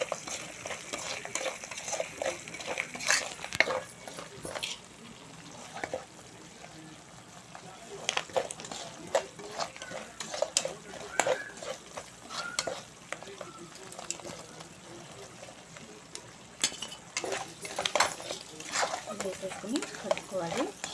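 Chicken pieces sizzle in hot oil for chicken pickle, stirred steadily with a utensil scraping the pan in repeated strokes, a continuous close frying hiss throughout.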